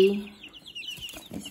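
A barred Plymouth Rock hen on a homestead makes soft, low clucking murmurs up close, brief and fairly quiet with faint background noise.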